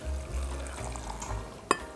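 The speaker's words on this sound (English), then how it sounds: "put your sliced onions in some sort of vessel and pour that liquid over it" Hot pickling liquid is poured over sliced onions in a vessel, a soft steady splashing trickle close by, ending with a single light clink.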